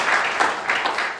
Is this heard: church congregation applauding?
yes